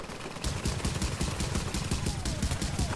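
Rapid bursts of automatic gunfire crackle loudly and continuously in The Division, the shots rattling in quick succession with no pauses.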